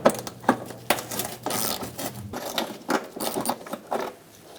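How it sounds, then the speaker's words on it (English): Metallic clicking and ratcheting as a 10mm socket wrench removes a bolt from the inner fender liner of a 2002-2006 Honda CR-V, irregular close taps and scrapes with brief whirring turns. "we're going to use a 10mm socket, and we're going to remove this bolt."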